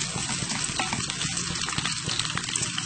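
Sweet potato chips deep fry in hot oil, giving a dense, steady crackling sizzle with bubbling, close and continuous, with no voices.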